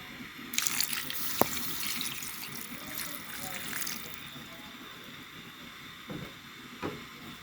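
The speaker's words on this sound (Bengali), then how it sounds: "পানি দিলাম," Water poured into a pan of small fish curry, a splashing rush near the start that fades over several seconds, with a sharp clink and a few faint knocks afterward.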